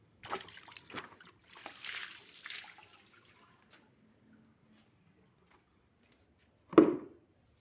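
Water splashes and trickles while car parts are washed, with short sloshing bursts early on, a long quiet gap, then one louder splash near the end.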